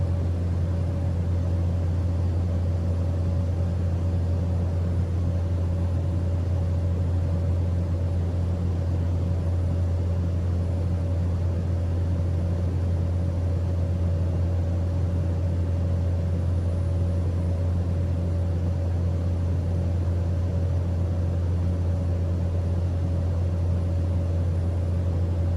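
A Susi Air plane flies a visual straight-in approach to runway 14 at Dabo Singkep, Indonesia, its engine a steady, loud, unbroken drone heard from inside the cabin throughout.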